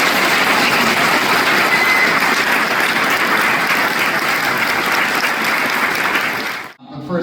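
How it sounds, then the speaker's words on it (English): A large audience at an Eagle Scout Court of Honor ceremony claps loudly and steadily for about seven seconds, a dense wash of applause that tapers off abruptly at the end. "let's give you guys a big round of applause."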